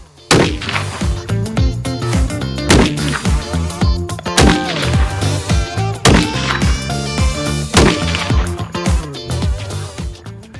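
Rifle shots fired at a target during load development, several loud sharp blasts with ringing decay spaced a couple of seconds apart, set against a bright, dense outdoor din.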